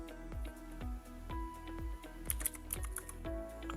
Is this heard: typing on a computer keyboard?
yes